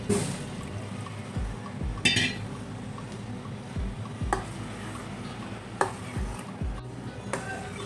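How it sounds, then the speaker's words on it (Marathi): Water pours and sloshes in a pan as it is added to butter to wash it, with occasional clinks and knocks of a utensil against metal. "मी यात पुन्हा पाणी घालून घेणार आहे"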